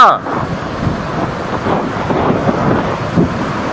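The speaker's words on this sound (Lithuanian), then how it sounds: "Koks vėjas eina!" Strong wind buffeting the microphone near a two-tier waterfall and bridge outdoors, a loud continuous low rumble with gusty swells from start to end.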